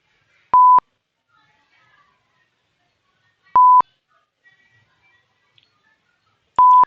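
A motion detection alarm gives three identical short electronic beeps at a single pitch, about three seconds apart, loud and clean against near silence.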